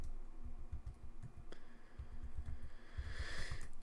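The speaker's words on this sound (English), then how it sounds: "That was slow typing." Slow typing on a computer keyboard, irregular clicks and taps spaced out over a few seconds, close and fairly quiet, with a faint background hiss and no talking.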